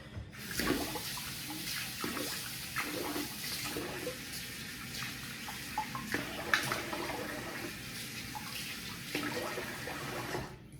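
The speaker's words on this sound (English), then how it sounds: "So I'm gonna rinse the face here." Tap water runs steadily in a sink while a face is rinsed after a shave, with faint splashes and hand movements breaking the continuous flow close by.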